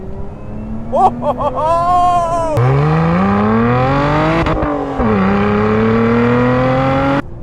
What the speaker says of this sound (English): there is nothing quite like a well-tuned, well-developed, high-performance combustion engine.